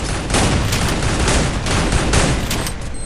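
Rapid bursts of gunfire in a Free Fire match, a dense, loud volley of overlapping shots with brief gaps, continuous across the whole stretch.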